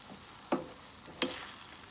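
Ground turkey frying in a pan as black pepper and salt are stirred through, with a steady quiet sizzle broken by two sharp scraping stir strokes near the start and middle.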